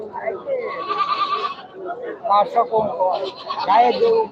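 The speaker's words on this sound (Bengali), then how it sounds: "কত রং বেরঙের ছাগল পাওয়া যায় দেখেন" Goats bleating at a livestock market, several nearby wavering cries overlapping with a person talking throughout.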